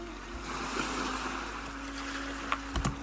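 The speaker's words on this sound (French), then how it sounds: "le bruit des vagues" Ocean waves wash continuously onto a beach in Senegal, a broad, steady rush of surf with light wind noise and a couple of faint knocks near the end.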